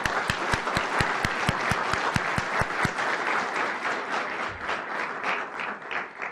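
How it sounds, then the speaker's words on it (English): A room full of people applauds at a city council inauguration ceremony, a dense, steady round of clapping with sharp individual claps at the start that blends into a sustained, even wash before slowly thinning out. "Would you join me in giving them a round of applause for that?"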